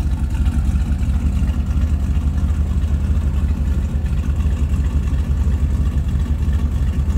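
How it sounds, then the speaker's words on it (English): A 1974 Chevrolet Corvette Stingray with its original engine idles with a steady, deep rumble. The sound is close, loud and even throughout, with no talk over it. "This car sounds very good. Nice little rumble to it."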